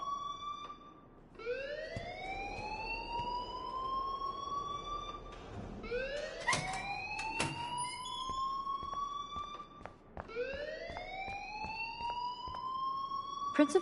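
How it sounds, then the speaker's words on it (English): An alarm blares in a Life is Strange school scene, a rising electronic wail repeating in three long sweeping cycles, loud and continuous with some background noise and clatter between sweeps. "please turn off that alarm since that's your job"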